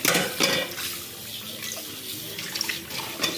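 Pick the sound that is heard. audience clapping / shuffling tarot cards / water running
water running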